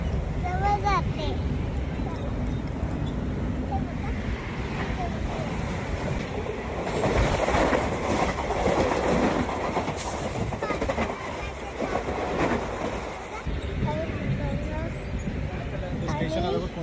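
A Mumbai local train rumbles and rattles continuously from inside a coach near Thane station, a loud roaring rush with clanks, while people talk over it.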